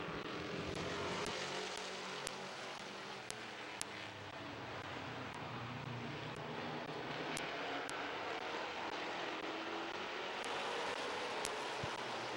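Race cars at Midvale Speedway accelerate together at the green flag, a dense, continuous engine roar from a pack of cars with a few sharp clicks and knocks scattered through it, heard from the stands with no talk.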